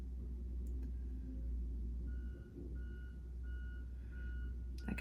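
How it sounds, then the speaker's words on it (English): A construction vehicle's reversing alarm beeps steadily at a distance, in a faint regular pulse over a low traffic rumble in the background, with no talking. "That construction's still going on, if you can hear it in the background."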